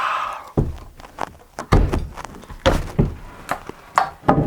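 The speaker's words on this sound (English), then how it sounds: "Stop hitting the door." A door in a tiny-house build site is struck repeatedly, a series of hollow, heavy wooden thumps in an irregular rhythm, loud and close, with no voices over them.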